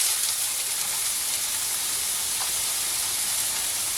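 Chopped onion sizzles steadily in a frying pan of hot oil, a continuous close hiss with no break and no voices.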